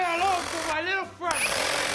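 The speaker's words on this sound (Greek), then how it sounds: "Αυτή είναι σπαθοσέγα λέγεται" A cordless battery-powered reciprocating saber saw runs loud and continuous in a studio setting, with a brief dip near the middle before the buzzing resumes, while people talk over it.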